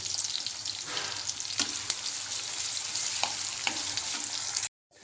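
Fenugreek greens for methi bhaji frying in a hot pan with red chilli powder, giving a steady close sizzle with a few sharp crackles and stirring scrapes, alone, ending in a sudden cut to silence.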